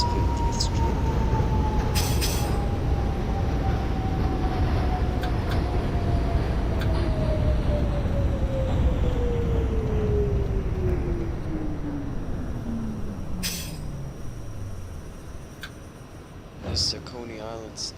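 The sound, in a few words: R68 subway train running in OpenBVE train simulator video game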